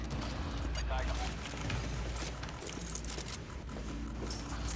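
Burst cannon weapon firing in a video game, heard as a dense, continuous stretch of rapid gunfire with a heavy low rumble, steady and loud throughout, with a voice talking over it.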